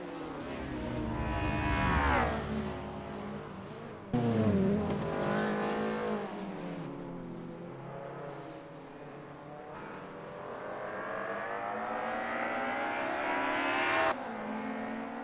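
A BMW race car engine roars loudly on a racing circuit, its pitch climbing and falling through gear changes over a sustained run with other cars nearby, no talk.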